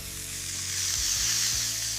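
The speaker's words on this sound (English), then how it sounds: "That sizzle, that's the sound of flavor." Pork chops seared in a hot pan give off a loud, steady hiss of sizzling fat, with a few soft clicks and thumps of handling beneath it.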